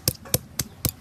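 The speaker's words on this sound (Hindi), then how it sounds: "आदा रसुन एक साथे बेटलबो" Ginger and garlic crushed together in a village kitchen, four sharp evenly spaced pounding thuds within about a second, close and clear with no talking.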